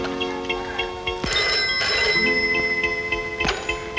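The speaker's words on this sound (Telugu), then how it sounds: "ఉండు, నేను ఫోన్ చేస్తాను." A telephone rings with a repeating electronic tone pattern, fairly loud and steady, over a background of other tonal sounds with a few sharp knocks.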